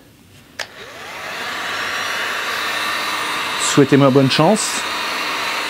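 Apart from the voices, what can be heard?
heat tool heating a car windshield for gluing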